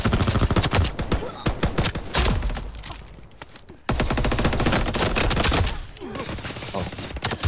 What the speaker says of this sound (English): Oh, somebody from behind shot me.